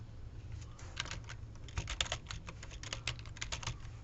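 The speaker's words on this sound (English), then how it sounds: "You just type in administrator after your URL." Rapid typing on a computer keyboard, with a steady stream of close, crisp key clicks in an irregular rhythm over a low background hum.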